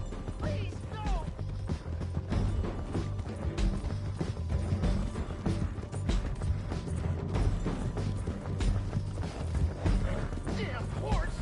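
Horse hooves clip-clop in Red Dead Redemption 2, a steady rhythmic trotting mixed with creaks, knocks and busy game sounds, with a voice talking over it throughout.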